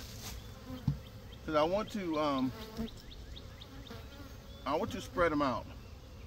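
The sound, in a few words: bees buzzing while moved between hive boxes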